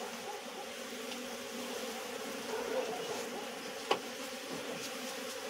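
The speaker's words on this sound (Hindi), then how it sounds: "अभी तो पूरा धुआं ही धुआं हो गया कमरे के अंदर, और पूरी मधुमक्खी ना फैल गई है इधर उधर।" Honey bees swarm through a smoke-filled room in a mountain home, a dense, steady buzzing hum that fills the space continuously, with one brief sharp knock partway through.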